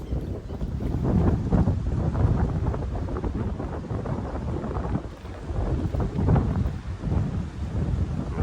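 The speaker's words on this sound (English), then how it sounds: "the wind is actually pushing straight into this bank" Strong wind pushes against a fishing lake bank in winter, roaring steadily into the microphone with gusty swells and no voices.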